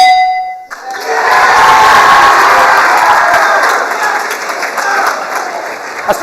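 A large studio audience at a game show cheers and applauds loudly and steadily after a bright chime, a dense roar of clapping and shouting that fills the room.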